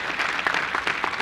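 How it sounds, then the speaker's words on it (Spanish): A church congregation gives brief applause during a service, a dense burst of many hands clapping at close range, steady and lively throughout the short moment. "Vamos a dar un aplauso, hermanos."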